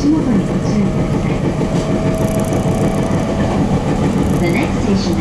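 A Takasaki Line or Keihin-Tohoku Line commuter train runs between Saitama-Shintoshin and Omiya, giving a steady loud rumble of wheels on rails with faint clatter and a brief high squeal throughout.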